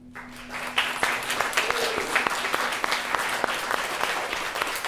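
An audience applauds after a performance at a social equity event, sustained clapping with sharp individual claps standing out near the microphone.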